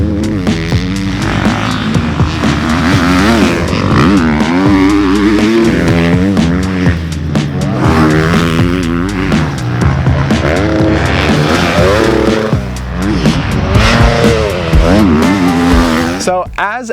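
Loud, continuous motocross-style engine roar from a 2024 GasGas MC350F dirt bike while riding, revving and rising and falling in pitch throughout, with a possible voice mixed faintly into the noise.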